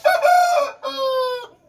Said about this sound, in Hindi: मेरे मुर्गे मेरी बात भी मानते हैं क्योंकि लाइट चली है, तो इस वजह से ये बोल रहे हैं